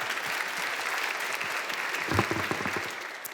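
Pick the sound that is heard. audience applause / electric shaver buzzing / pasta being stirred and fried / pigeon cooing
audience applause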